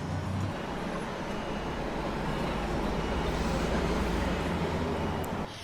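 Continuous roadway rumble as a bus rolls by on the street, a broad steady roar that cuts off near the end.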